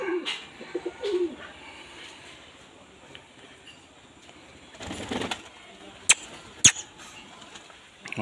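Soft pigeon coos murmur in the background of a quiet space, with a few sharp clicks and rustles breaking in.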